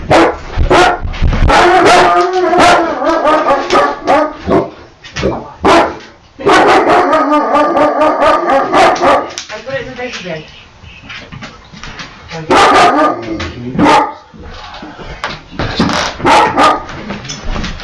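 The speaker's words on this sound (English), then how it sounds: "My dog's going to bark." A dog barks repeatedly in sharp, loud bursts close by, with some yips and whimpers, in a home in Western New York, while a person talks over and between the barks.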